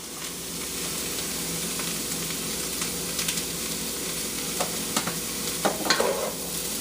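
Chopped vegetables seasoned with salt and pepper sweat gently in a pan for jambalaya, giving a soft continuous sizzle with a few light stirring clicks and scrapes near the end.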